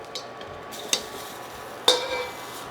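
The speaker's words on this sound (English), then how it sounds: "I'm gonna put it in a bowl on the side" Sautéed shrimp being moved from a pan into a bowl, with a few isolated, crisp clinks and scrapes of utensil against cookware, spaced apart over a low kitchen background, no talk.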